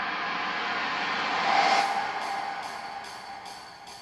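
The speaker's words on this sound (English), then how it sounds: "This is an Alex Ling 4-bar uplifter, as well as the Alex Ling uplifter Impact" Alex Ling 4-bar uplifter layered with an uplifter impact: a bright, noisy synth riser swells toward a loud peak, then thins out over a pulsing high shimmer. It plays alone with no voices.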